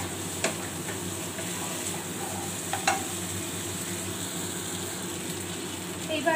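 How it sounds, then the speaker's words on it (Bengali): Poppy seed paste fries in oil over a lowered gas flame while being stirred, giving a steady close sizzle with occasional sharp clicks of the utensil against the pan. "পোস্তটা আমি একটু তেলের সাথে নেড়ে নেব"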